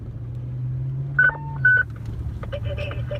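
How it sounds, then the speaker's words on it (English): Fire dispatch alert tones play over a radio scanner in the Los Angeles area, a few sustained electronic two-tone beeps over a low engine rumble, followed by short buzzy bursts. "Not everybody is as lucky as we are to live in the Los Angeles market and hear those tones"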